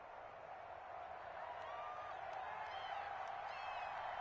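A stadium crowd in an EA Sports football game before a Dallas Cowboys versus Washington matchup gives off a steady, distant roar of murmuring and cheering, with faint whistles and calls rising above the wash throughout.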